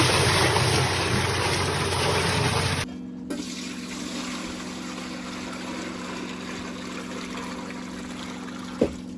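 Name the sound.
water flowing from pump into containers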